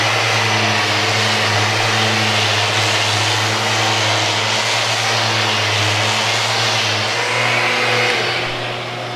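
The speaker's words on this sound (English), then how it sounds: "So you can see it's basically a grinder with killer dust extraction" Grinder-style power sander with strong dust extraction working a live edge wood slab, a loud steady motor whine with a constant droning hum throughout, close and unbroken, with no talking.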